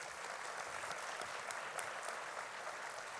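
At an inaugural ceremony marking a 60th anniversary, an audience applauds with a soft, distant clatter of many hands that stays steady from start to finish.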